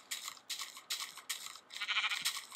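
Minecraft sheep bleat in repeated short, nasal, wavering calls, about five in quick succession, clear and fairly close with no talking.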